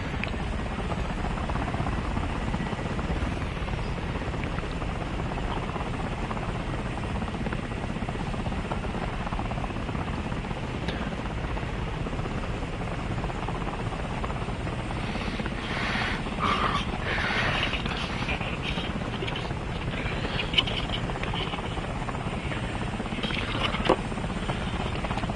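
A helicopter engine throttled up in the video game War Thunder makes a loud, steady rotor drone that holds through the whole stretch, with brief crackles and faint noises rising over it in the second half.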